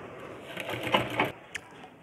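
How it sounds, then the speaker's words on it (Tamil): A sewing machine stitches a blouse in a short, close whirring burst of rapid needle strokes, then stops with a light click. "ரெண்டு தையல் போட்டுடுங்க."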